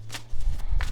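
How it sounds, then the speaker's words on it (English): A deck of tarot cards is shuffled close by, with quick riffling bursts of papery flutter and soft low thumps packed into under a second, no talking. "we're going to shuffle for that really quick"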